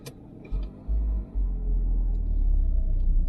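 A Dacia car engine cranks briefly, then catches and settles into a steady, loud low rumble at idle, heard close and alone.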